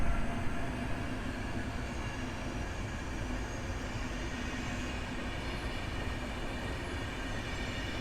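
The seven-car Express Intercity Sedina train, which includes a restaurant car, moves through Warszawa Wschodnia station with a loud, continuous rolling rumble and rail noise that stays steady throughout.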